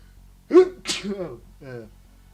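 A single sharp sneeze up close, followed by a couple of short spoken remarks.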